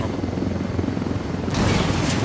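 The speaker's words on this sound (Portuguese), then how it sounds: "O helicóptero vindo atrás da gente." A helicopter in the video game Ghost Recon Wildlands drones steadily and loudly with a close rotor thrum, then a sudden harsh burst of noise erupts over it near the end.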